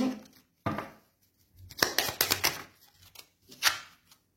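Tarot cards being shuffled by hand in several quick riffling bursts separated by short pauses, ending as a card falls out; close, crisp papery rustles with no one speaking.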